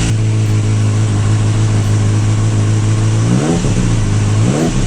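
A freshly started Kawasaki ZX6R sport bike runs loud and close at a steady idle, then gives two quick revs of the throttle near the end.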